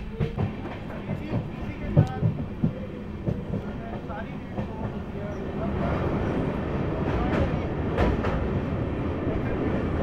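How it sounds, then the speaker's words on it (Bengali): Sealdah–Jalpaiguri Road Humsafar Express crossing the Nasipur bridge on its first run, a moderately distant rumble of train wheels that swells and grows steadier after a few seconds, with scattered clanks over it. "উত্তরবঙ্গগামী ট্রেন প্রথমবারের মতন বেরোচ্ছে নসিপুর ব্রিজ"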